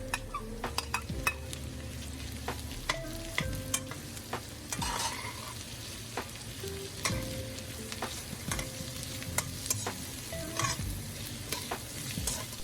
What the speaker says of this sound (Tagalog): Isusutay natin to hanggang sa ito ay mag-moist